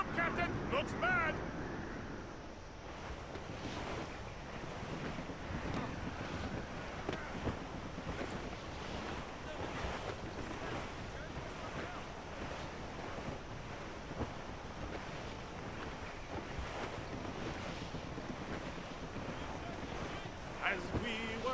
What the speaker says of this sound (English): Storm, Captain! Looks bad!